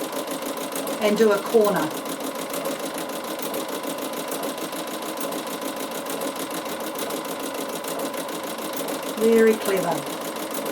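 Bernina sewing machine fitted with a walking foot stitching lace, a steady fast whirring run throughout with short bursts of speech near the start and end.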